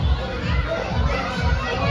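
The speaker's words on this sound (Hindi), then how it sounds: "बहुत ज्यादा भीड़ है" Dense crowd of people packed into a street in Haridwar, a continuous close murmur of many voices and shouts, with children's calls audible in the steady din.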